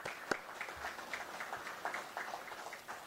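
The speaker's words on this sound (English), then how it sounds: "I want to give you a round of applause" Faint, scattered applause from a modest audience at an IORA Day celebration, a soft patter of clapping heard from a distance that holds steady for about three seconds.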